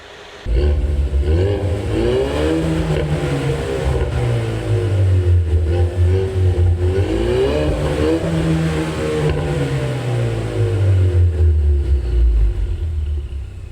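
A Ford Mustang's 2.3-litre engine revs repeatedly, pitch climbing and falling in several long surges over a steady idle rumble, loud and close.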